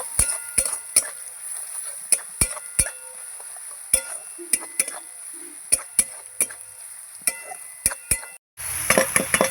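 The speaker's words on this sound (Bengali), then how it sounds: "এবার একসাথে মশলা আর পেঁয়াজ কষিয়ে নেব" Spices and onion frying together in a pan, heard as sharp, irregular metallic taps and clinks of a utensil against the pan over a faint background sizzle.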